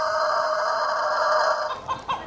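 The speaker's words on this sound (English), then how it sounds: "The sound of a cock is crow." A rooster crows in a long, loud, sustained call that holds steady, then breaks into a couple of shorter clucking notes at the end, with no voices present.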